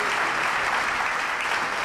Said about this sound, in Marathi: Give a big clap to Jesus.